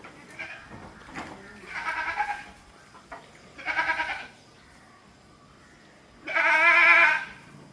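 A dairy goat at a livestock sale bleats three times, loud and close, with quiet pauses between the calls.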